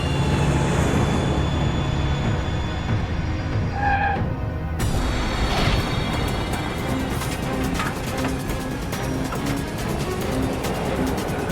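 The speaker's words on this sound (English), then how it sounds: "The 63-ton plane prepares to touch down." A 63-ton airliner touching down on a runway gives a loud, sustained roar of engines and rushing air, with a sharp shift partway through as the wheels meet the ground, and no voices.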